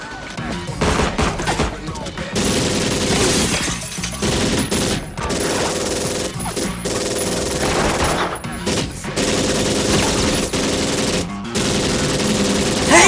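Gunfire from an action film, rapid bursts of automatic fire and shots in dense, loud volleys with brief gaps, mixed with other film effects.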